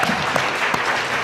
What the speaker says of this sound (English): let's have a round of applause for half hour.